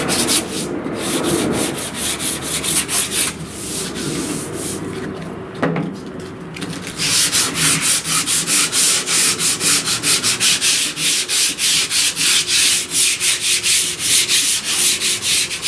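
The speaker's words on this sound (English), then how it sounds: "Just sanding it lightly by hand to blend it all in." Body filler on a 1969 C10 door panel being sanded by hand: rhythmic rasping strokes, slower and uneven at first, then a fast steady back-and-forth scrub, close and fairly loud.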